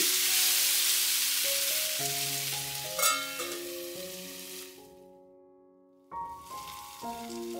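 Okra pieces sizzle and fry in a pan with a steady hiss that fades toward the end, while tonal background music plays over it throughout.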